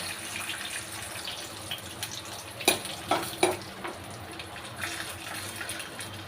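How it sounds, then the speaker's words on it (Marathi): Vermicelli frying in ghee in a pan, a low steady sizzle close by, with a few sharp scraping clinks of stirring in the middle. "आता शेवाय पण आपण छान असे याच्यामध्ये फ्राय करून घेऊ घीमध्ये"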